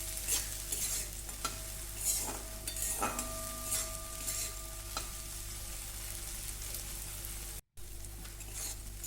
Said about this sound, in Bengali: আর সামান্য একটু চিনি দিতে হবে এর মধ্যে দিয়ে ভালো করে একটু টাইম নিয়ে এটা ভাজতে হবে